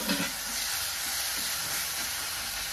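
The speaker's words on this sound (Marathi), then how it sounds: "त्याला पण तेलामध्ये चांगलं हलवण करून घ्यायचं, मिक्स करायचं" Onion and chilies are stirred and fried in hot oil in a pan, giving a steady, close sizzle with light scraping from the stirring throughout and no talking.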